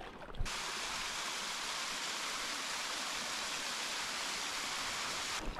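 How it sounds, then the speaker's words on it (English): A small waterfall spills into a mountain lake, producing a steady, full rush of falling water that stays constant and fairly close throughout, with no voices. "It's a pretty awesome little waterfall."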